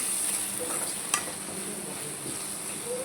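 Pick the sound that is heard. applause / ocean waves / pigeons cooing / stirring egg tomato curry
stirring egg tomato curry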